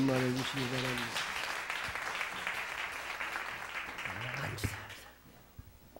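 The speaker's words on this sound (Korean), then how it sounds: "우리 남선교회하여 큰 박수 한번 해주시기 바랍니다" A church congregation gives a round of applause for the men's mission group, a steady wash of clapping with a voice speaking over the start, then fading out.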